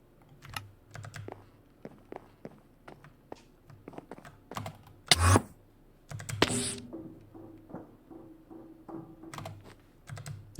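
Keys clack in irregular, close bursts on a computer keyboard during a game session, with a couple of heavier thumps mixed in and no talking.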